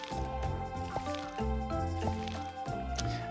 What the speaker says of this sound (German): Und den Rest hier bewässern.